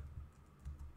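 Quiet, close typing on a computer keyboard, a few soft key clicks in quick succession with no talking.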